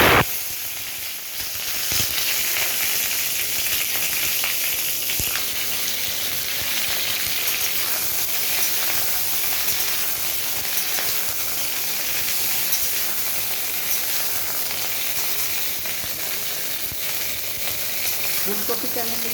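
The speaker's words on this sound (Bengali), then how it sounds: "এই তেলের মধ্যে আমি ফুলকপিগুলো ভেজে নেব।" Cauliflower pieces fry in hot oil in a wok, a loud, continuous hiss and sizzle that holds steady throughout, with occasional faint stirring.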